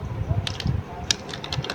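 Code being typed on a computer keyboard, with quick irregular clusters of key clicks over a low background hum and no speech.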